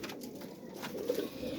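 A flying pigeon of a breed kept by a fancier gives a brief, soft coo. The sound is faint and muffled under steady background noise.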